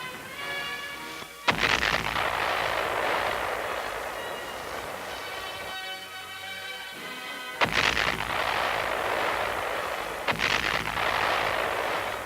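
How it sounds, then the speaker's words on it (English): Artillery fires a 21-gun salute over an open field at an official welcome ceremony with a guard of honor, heavy booming blasts spaced several seconds apart, each followed by a long rolling echo and rumble. "a 21-gun salute sounds over the field."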